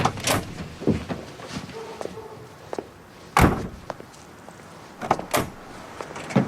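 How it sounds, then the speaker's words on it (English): A door is opened in a home during an evening departure, with a few sharp knocks and clunks of the handle and frame spread among quieter rustles and footsteps, and no talk. "I'll get the door."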